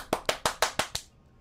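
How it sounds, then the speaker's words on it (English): Six evenly spaced hand claps in the video game Bendy and the Dark Revival, sharp and close with a steady rhythm, ending in quiet. "I clap."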